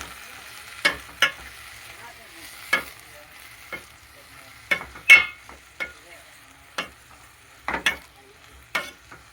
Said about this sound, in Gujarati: આ રીતની આપણે ભાજીને તેલમાં મિક્સ કરી લેવાની.